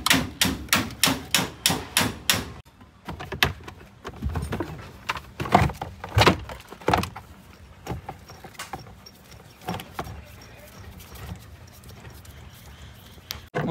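Parts being pulled out of a Toyota Fortuner's interior as the stereo is removed: a quick run of sharp, evenly spaced knocks, then irregular clatters, taps and rattles close by, with no talking.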